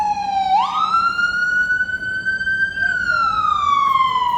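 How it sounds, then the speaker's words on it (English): A loud emergency siren on a city street wails alone, one long tone climbing, holding high for a couple of seconds, then sliding back down. "Sirens are part of the urban experience,"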